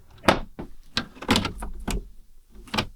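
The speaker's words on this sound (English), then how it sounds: "I'm going to hope that this now goes on like a normal drawer should" A freshly assembled flat-pack drawer, snagging on a protruding screw, slides in on its runners with uneven scraping and knocking bursts, close and moderately loud.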